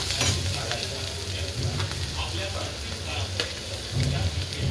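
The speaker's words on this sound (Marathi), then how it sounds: "कांदा आपला लाल भाजतोय, आपण त्यात थोडंसं मीठ टाकून घेऊया।" Onion frying until reddish in a pan, a dense steady sizzle with stirring scrapes, close and continuous, with no talking.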